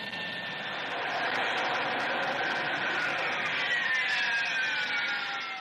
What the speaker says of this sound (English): This early GR model Harrier is performing a world first. It's landing on a ship's helipad.